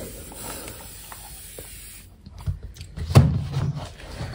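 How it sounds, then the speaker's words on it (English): A misty spray bottle sprays a houseplant, giving a short, sharp hissing burst of spray near the end after a quiet stretch, close and fairly loud. "Just spray her with this misty spray bottle."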